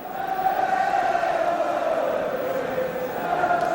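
A large crowd at a 1976/77 Chelsea home match against Hull City, a steady roar of cheering and chanting held throughout at moderate distance, broad and continuous.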